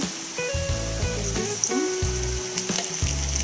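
Onions frying in hot oil in a kadai for an Andhra-style chicken curry, a steady close sizzle with occasional stirring clatter and no talking.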